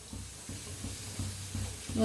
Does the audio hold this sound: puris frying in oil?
yes